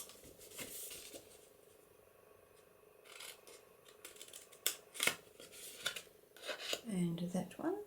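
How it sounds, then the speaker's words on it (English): Scissors snip out the bottom corners of a folded paper ephemera folder and trim off the fold line, giving a few sharp near cuts spaced across the clip, with soft rustling of paper between them. "these bottom corners, we're going to cut those out. And I'm cutting the fold line off."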